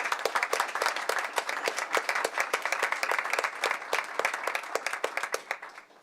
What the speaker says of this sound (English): Everybody, please give our panelists a big round of applause.